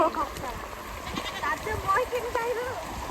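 A young goat bleats several times in short wavering cries, close by, amid floodwater in Lakhimpur, Assam, with people talking over and between the calls.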